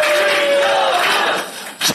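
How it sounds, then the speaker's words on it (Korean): A crowd at an election campaign office in Gangseo District cheering and shouting loudly, a dense roar of voices that dips briefly near the end before a final burst of clapping. "큰 박수 부탁드리겠습니다."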